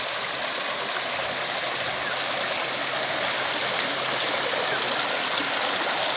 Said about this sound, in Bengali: পার্কটির ভিতরে চমৎকার একটি ঝর্ণা স্থাপন করা হয়েছে খুব সুন্দর করে।